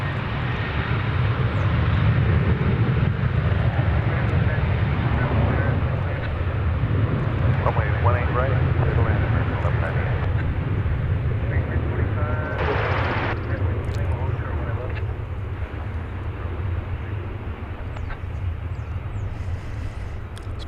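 A jet airplane at DFW Airport gives a loud, steady engine roar that holds for the whole stretch and fades slightly toward the end, with a brief whoosh midway.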